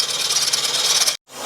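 An 8.5mm drill bit bores out a damaged engine thread, a steady grinding whir running close and loud for over a second before cutting off abruptly, then starting to spin up again.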